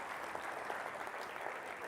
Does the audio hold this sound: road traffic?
no